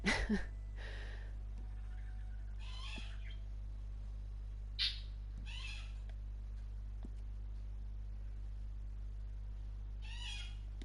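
A bird screeches in short harsh bursts from another room, several spaced calls over a steady low hum.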